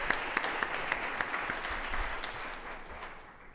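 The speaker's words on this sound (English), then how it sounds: "maybe a round of applause for that" A seated audience at a kidney cancer research talk gives a round of applause, a moderate, continuous patter of clapping with a few crisp nearby claps, gradually tapering off at the end.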